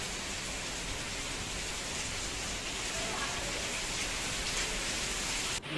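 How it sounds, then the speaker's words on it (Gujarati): Heavy monsoon rain driven by strong wind pours steadily in Mahuva, Gujarat, a dense, even hiss that continues without a break. "ભારે પવન સાથે વરસાદ પડ્યો."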